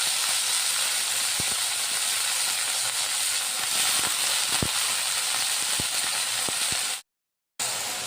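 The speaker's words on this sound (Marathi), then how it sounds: "ही कांद्याची पात टाकायची यामध्ये तेलामध्ये।" Spring onion greens dropped into hot oil with cumin and onion, a loud steady hissing sizzle with occasional sharp pops and crackles, close by, ending abruptly.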